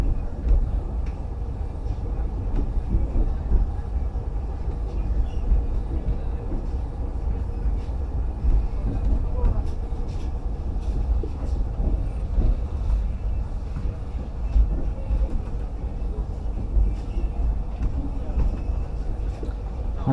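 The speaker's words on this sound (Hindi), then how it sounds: "ये जो डिपार्ट हो रही है ये डिब्रूगढ़ टाउन न्यू दिल्ली राजधानी एक्सप्रेस है" A Dibrugarh Town–New Delhi Rajdhani Express pulls out of a station in a steady low rumble that runs throughout, with wind buffeting the microphone and a loud, close, continuous roar.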